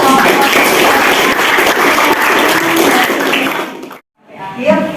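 Classroom applause from students, a dense burst of clapping that fills the room for about four seconds, cuts off abruptly, then gives way to quieter shuffling and a voice.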